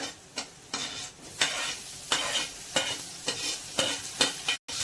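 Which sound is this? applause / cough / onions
onions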